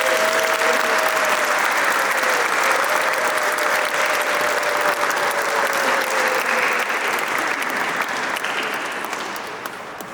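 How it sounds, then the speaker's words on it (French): A congregation applauds a child's baptism in church, a steady, dense clapping that fills the room for about ten seconds and slowly tapers off. "On applaudit pour Dora."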